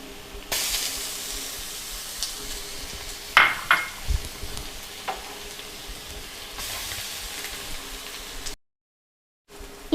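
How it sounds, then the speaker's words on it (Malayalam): Garlic and ginger fry in a pan for Kerala-style beef keema, a soft, steady sizzle with a few sharp clatters of utensils against the pan and brief louder hissing bursts. "ഇപ്പോൾ വെളുത്തുള്ളി ഇഞ്ചി ഞാൻ ഇട്ടിട്ടുണ്ട്"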